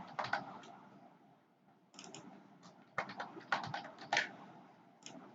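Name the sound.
typing on a computer keyboard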